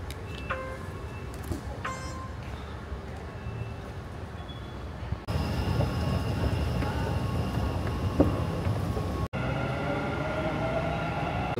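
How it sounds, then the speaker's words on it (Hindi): A Dubai metro train pulls away from a station platform, its steady rolling rumble and electric whine rising in the enclosed space, with faint tones and brief clatter over continuous station noise. "जैसे ही हम लोग मेट्रो स्टेशन के प्लेटफॉर्म में आए, हमारी ट्रेन निकल रही थी"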